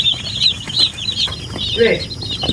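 Young broiler chicks peep in a cold coop, their high chirps repeating in quick bursts close by, with soft rustling and faint human sounds beneath.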